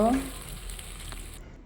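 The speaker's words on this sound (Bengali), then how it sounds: "ডিমগুলি দিয়ে দুই মিনিট পর্যন্ত ভালোভাবে ভেজে নিব" Eggs frying with masala pasta in a pan, a brief soft sizzle that starts after a short sound at the outset and fades quickly.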